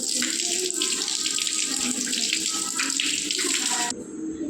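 Tap water runs steadily and close by as arms are washed for wudu, a continuous splashing hiss that dips slightly at the end.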